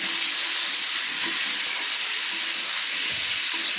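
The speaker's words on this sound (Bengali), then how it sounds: "আমি চিকেনটাকে ভালো করে নেড়ে নিচ্ছি।" Chicken masala cooking in a pan, a steady broadband hiss and sizzle of frying with faint scraping from stirring, continuous and fairly close throughout.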